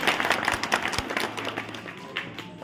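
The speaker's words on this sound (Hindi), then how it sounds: "एक बार जोरदार तालियों से विधायक जी का स्वागत।" A crowd at a village development-tour gathering claps to welcome the MLA, a brief burst of dense applause that tapers off over a few seconds.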